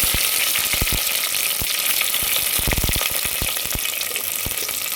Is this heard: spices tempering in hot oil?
yes